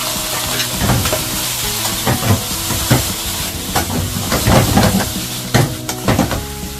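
Onion, garlic, bamboo shoots, string beans and long green chili sautéing in a hot pan, a steady loud sizzle broken by repeated scraping stirs and clatters of the utensil against the pan, with no talking.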